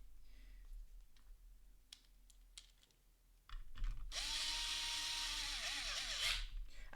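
An electric screwdriver drives screws into a Colorful CVN B850M ARK FROZEN motherboard: a few light clicks and taps of handling, then a close, steady whirring motor run of several seconds with shifting pitch.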